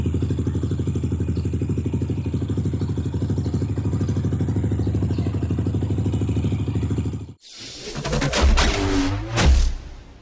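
A motorcycle engine idles close by with a steady, rapid chugging throb that cuts out abruptly near the end, followed by clattering handling noises and short bursts of rumble.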